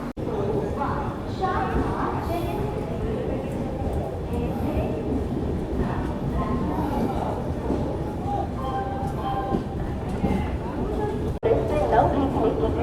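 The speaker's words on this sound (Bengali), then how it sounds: "বন্ধুরা খড়গপুর থেকে আমাদের ট্রেন ছেড়ে দিল।" Sree Jagannath Express pulling out of Kharagpur station, a steady low rumble of the train rolling under continuous nearby chatter and voices of passengers throughout.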